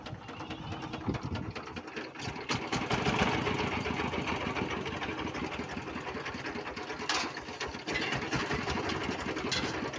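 A Changfa 22hp 1115 diesel engine on a motor van chugs with a rapid, rough knocking rhythm, close and loud, surging unevenly as it tries to start.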